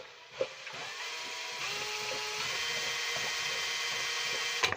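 A power drill whirs steadily close by, boring a hole in an abandoned sunken boat, its pitch shifting slightly as it bores, with a brief knock at the start and end.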